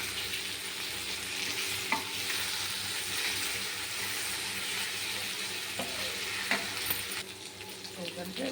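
Fish frying in a pan sizzles steadily and fairly loudly, broken by a few soft clinks and stirring scrapes near the end.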